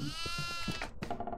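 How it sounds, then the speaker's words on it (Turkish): A goat in the horror game Devour bleats in a quavering, nasal cry, followed by softer choppy sounds, heard fairly quietly and close. "Keçi şey yiyor."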